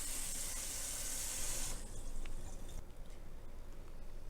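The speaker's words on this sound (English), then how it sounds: "I drain them out of their soaking water, and then I just rinse them off real quick" Tap water runs in a steady rush over soaked red lentils in a sink, a bright hiss for the first half that gives way to a softer spattering and sloshing stream.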